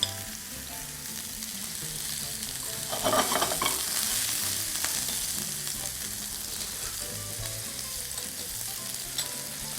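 Oil and butter sizzle steadily in a frying pan, a loud continuous hiss that swells slightly midway, with occasional stirring scrapes and no talk.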